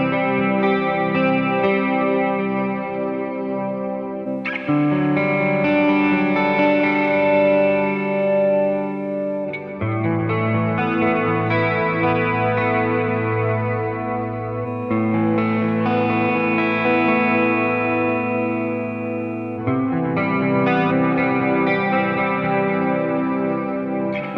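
Electric guitar played through a Valeton GP-5 and a Fractal with wet effects, heavy chorus, delay and distortion, ringing sustained chords in several repeated phrases of about five seconds each, loud and steady with no voices.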